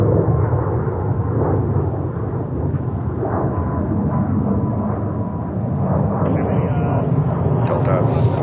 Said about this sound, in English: Delta 321 Neo.